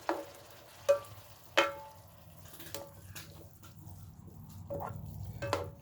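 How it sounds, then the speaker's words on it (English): Spoon stirring ground hamburger mixture with added red wine in a pan, several sharp scraping clinks spaced out over low steady simmering, close and fairly quiet. "Stir it up."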